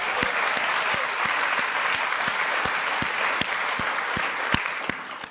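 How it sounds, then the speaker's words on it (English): An auditorium audience claps steadily throughout, a dense even wash of applause with a few sharper nearby claps standing out, no voices over it. "Let's give them a round of applause."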